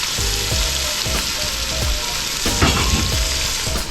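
Kingfish fries in seasoned oil, giving a loud, dense, steady sizzle close up, broken by brief scraping stirs and sharper pops, with no voices.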